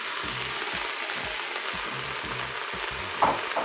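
Zucchini and eggplant fry with tomatoes in a Cookeo multicooker, a steady hissing sizzle under regular scraping stirs, close and moderately quiet, with one louder clack near the end and no talking.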